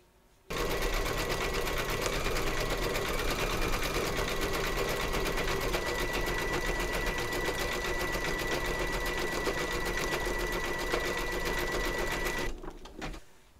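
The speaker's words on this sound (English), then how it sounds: "We're now going to stitch round number 10." A large vintage sewing machine runs a steady, unbroken satin stitch around a flower appliqué, a fast even whirring drone that starts abruptly and stops near the end, with no talk.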